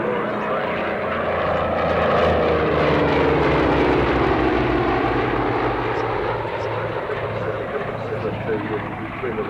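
A WWII-era propeller training aircraft flying at the 1994 Warbirds Over Wanaka airshow in New Zealand, giving a loud, steady engine drone that swells and holds throughout, with talk over it.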